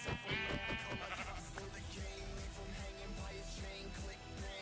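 Several Minecraft sheep bleat in wavering, nasal calls, repeated and overlapping at moderate level over a steady game background.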